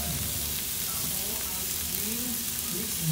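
Squid stir-frying in cooking oil and wine gives off a steady, even sizzle throughout, a soft continuous hiss with faint stirring beneath it.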